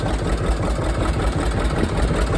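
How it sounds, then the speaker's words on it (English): A tractor fitted with a hand clutch and pulley idles steadily nearby, a loud, even low rumble with no voices. "when you leave your tractor idling, do you want the pulley to spin constantly, or do you want it to have it disengaged?"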